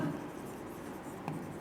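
Pen scratching steadily across paper while an answer is written out for an exam-preparation lesson, a soft continuous close scrape with a slightly stronger stroke near the end.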